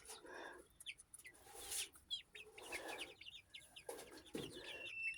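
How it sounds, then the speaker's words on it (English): Young chickens being hand fed cluck and chirp in short bursts and scattered calls, fairly close, with brief gaps between the calls. "Well, them are happy birds."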